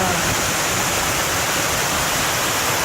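Steady, loud rush of cascading water from waterfalls beside a river, heard close up from a riverboat ride at a hotel; continuous broadband roar with no pauses and no talking.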